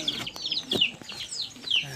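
On a small backyard mini farm, chickens cluck and a rooster makes short calls and squawks, near and moderately loud, while someone talks over them.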